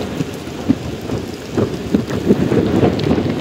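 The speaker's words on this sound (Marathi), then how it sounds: "हवा पण मजबूत आहे आणि पाऊस पण मजबूत आहे" Heavy rain with strong wind sweeps a busy street near a plaza, a loud, dense hiss of rain with low gusting rumbles and irregular surges, continuous throughout.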